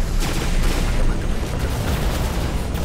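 Gunfire from a robot's weapon in the War Robots PC game, a dense, continuous barrage of loud booming shots filling the whole stretch without a break.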